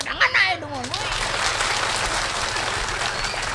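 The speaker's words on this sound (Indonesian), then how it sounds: "Tepuk tangan aja dong." Audience at a Balinese bondres comedy performance applauding, a steady crowd clapping that follows a brief burst of voices and a sliding vocal sound at the start.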